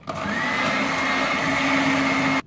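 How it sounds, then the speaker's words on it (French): Chocolate cake batter being mixed in a bowl with an electric mixer, a steady motor whine starting abruptly and running evenly before stopping short. "Je vais la mélanger."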